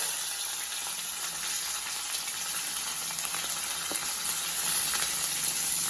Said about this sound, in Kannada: ಆಮೇಲೆ ಕರ್ಬೇವಿನ ಸೊಪ್ಪು ಮತ್ತು ಒಣಮೆಣಸಿನ್ಕಾಯಿ ಹಾಕೊಳ್ತಾ ಇದ್ದೀನಿ ಆಮೇಲೆ ಈರುಳ್ಳಿ ಹಾಕೊಳ್ಳಿ